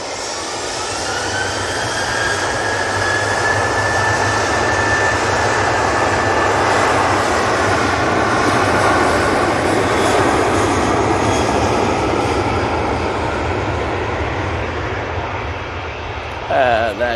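A Boeing 737-800 jet airliner passes at Manchester Airport, its engine roar loud and steady for the whole stretch with a slowly shifting whine before easing off at the end, while a voice talks over it.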